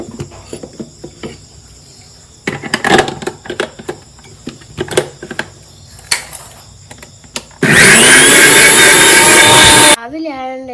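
An electric mixer grinder whirs loudly for about two seconds while grinding chutney in a home kitchen in the morning, preceded by scattered clicks and handling sounds under a talking voice.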